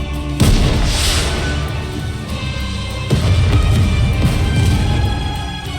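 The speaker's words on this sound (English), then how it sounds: "a shell flies from the rocket launcher. And a resounding explosion causes the entire snowfield to be blanketed in thick plumes of white smoke." A rocket launcher shell explodes across a snowfield in the Nikke video game, with two heavy, rumbling booms, one right at the start and a second about three seconds later, each trailing into a long, loud roar.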